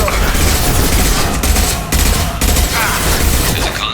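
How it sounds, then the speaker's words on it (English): Impact weapon fire in the Mass Effect 2 video game: loud, dense bursts of gunfire and blasts in a continuous barrage, close and intense throughout. "Firing an impact shot!"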